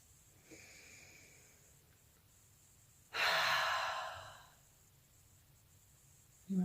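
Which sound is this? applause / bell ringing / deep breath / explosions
deep breath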